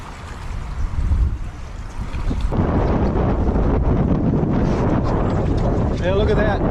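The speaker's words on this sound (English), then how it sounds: "Tonight, it's windy." Strong wind buffets the microphone on a riverbank during a windstorm while steelhead fishing, a loud continuous roar with rumbling gusts that thickens after the first couple of seconds; a voice is heard briefly in the background.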